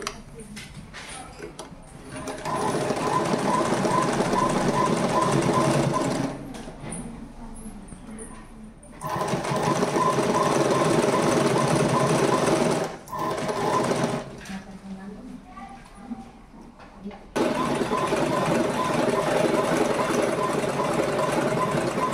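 A sewing machine stitching a school uniform knicker whirs in long loud runs broken by pauses, with someone speaking during the quieter gaps.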